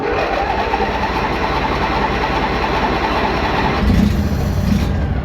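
A GT18 lawn tractor engine, just out of winter storage, runs at a steady, loud idle, its close, continuous mechanical drone shifting slightly in tone near the end.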